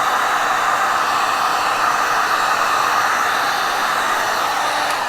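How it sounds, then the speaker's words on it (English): A heat gun blows over epoxy resin, a loud, steady, close whoosh of airflow that holds evenly throughout with no voices. "I'm glad I took the heat gun to it and decided to manipulate it."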